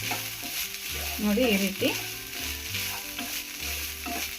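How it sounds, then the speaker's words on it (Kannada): Grated coconut roasts in ghee in a pan over a medium flame on a stove, with a steady close sizzle and scraping stirs. A voice speaks briefly over the frying. "ಕೊಬ್ಬರಿನ ಚೆನ್ನಾಗಿ ತುಪ್ಪದಲ್ಲಿ ಹುರ್ಕೋಬೇಕು."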